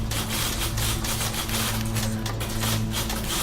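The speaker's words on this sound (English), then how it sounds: "Dolls and monkeys in a room, all typing." Rapid typewriter clatter from The Beginner's Guide video game, a dense continuous stream of mechanical key strikes with a low machine hum beneath, steady and fairly close, no voices.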